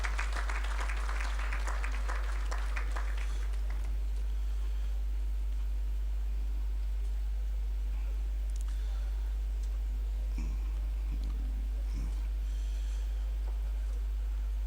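Applause from the audience at a graduation ceremony, a dense burst of clapping in the first few seconds that fades into a hall's low ambience.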